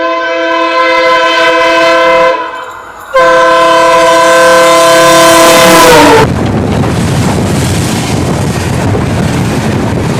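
A passenger train on an Indian line through the Thar desert blares a loud, sustained horn in two long blasts, then gives way to the heavy rumbling roar of rolling carriages close by.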